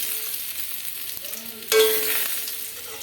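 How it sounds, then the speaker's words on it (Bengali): Potatoes fry in oil in a wok, a soft, close sizzle that jumps louder partway through as the pieces are stirred and scraped, then settles back to a steady crackle; no one speaks. "আলুটা ভাজা হয়ে গেছে, তুলে নেবো।"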